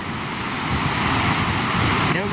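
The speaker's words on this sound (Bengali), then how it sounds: "ঢেউ কিন্তু আবার চলে আসছে এখানে" Sea waves wash onto a beach in Thailand under a cloudy sky, a loud, close, continuous surge mixed with wind buffeting the microphone.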